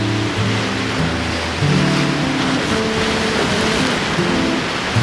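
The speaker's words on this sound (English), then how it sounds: "A lot of waves." Ocean waves break and wash steadily onto a shore beside a seaside town, a loud continuous surf roar with rolling swells and no voices.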